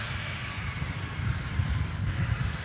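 Airliner departing Dallas Love Field from runway 31 left, its engines a low, steady roar that builds slightly at a distance, with a thin high whine running through it.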